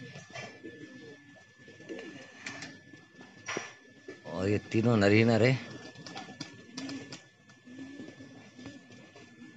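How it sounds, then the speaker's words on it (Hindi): Pigeons, including a kalsara, arrive at a rooftop flock and give a short, full-throated coo that swells up close for about a second, with someone talking in Hindi before and after. "तीन कबूतर और आ गए"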